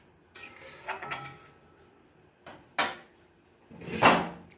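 A spoon clanks and scrapes against a cooking pot while stirring a potato curry, in a few separate bursts with quiet gaps, the last scrape loudest and closest.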